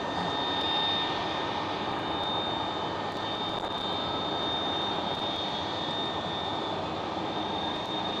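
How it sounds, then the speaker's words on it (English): Loud, continuous roar of an Airbus A330 jet engine at Amsterdam Schiphol airport, a broad steady rumble with a thin high whine, holding for the whole stretch with no talk. "And a very loud A330."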